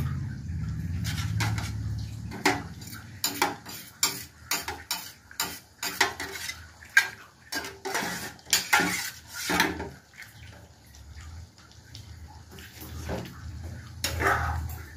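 Hot water poured into a bowl to rinse leftover mutton masala, heard as close clattering of a metal bowl and utensils with splashing water, irregular and moderately loud, with a low rumble at the start and end.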